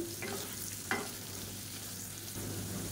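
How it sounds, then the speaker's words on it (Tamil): Potato pieces fry and roast in a hot pan with oil, a steady close sizzle broken by a few scraping stirs of the spatula, with no voices. "இப்போ இது வந்து கொஞ்சம் நல்லா ரோஸ்ட் ஆகட்டும் உருளைக்கிழங்கு."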